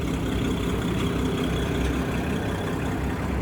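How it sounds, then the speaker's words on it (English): A 2021 Isuzu MU-X's 4JJ1 3-litre turbo diesel engine idles steadily, a dense, even low rumble with a faint higher whir, loud and unchanging throughout with no talk. "This is a 4JJ1 3-litre turbo diesel engine."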